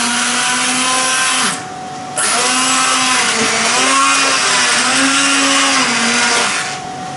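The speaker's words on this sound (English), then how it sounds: "I'm now going to use my favourite stick blender just to" A stick blender purees softened courgette soup, a loud, steady motor whine that briefly cuts out and restarts, its pitch wavering up and down as the blades work through the soup, with no talking.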